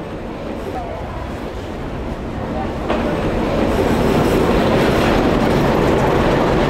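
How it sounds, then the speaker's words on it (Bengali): A train rolls into a station with a loud rumble and rhythmic wheel clatter building steadily, close and dominant, while people's voices are faintly mixed underneath. "ওই যে ট্রেন আসতেছে।"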